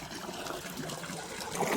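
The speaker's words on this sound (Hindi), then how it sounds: "और अब इसमें दोबारा से पानी भर रहे" Water poured to refill a container, a steady close trickle and splash of liquid with no talk.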